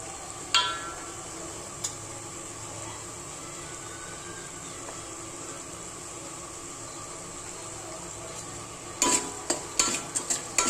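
Spices, red chili powder, Kashmiri chili powder and coriander masala stirred and sautéed in a pan, a steady soft sizzle with occasional scraping clicks of a spoon, growing busier with sharp taps near the end.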